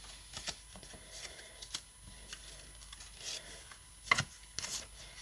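Greeting cards with textured backgrounds are shuffled and handled at close range, giving soft rustling and papery flicks with a few sharper slaps, quiet overall.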